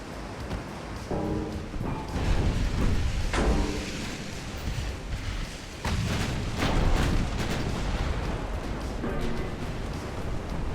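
In the naval warfare game Ultimate Admiral: Dreadnoughts, heavy guns fire in repeated deep booms and rumbling blasts over a continuous roar of battle noise, loud and dense throughout.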